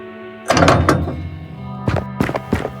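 In the video game Shardlight, a door is unlocked and opened with a cluster of heavy wooden clunks and rattles, followed a second later by another burst of thuds over a low steady game hum.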